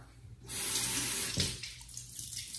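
A tap runs steadily into a sink for about a second before easing off, a close, hissing rush of water used for rinsing during a skincare routine.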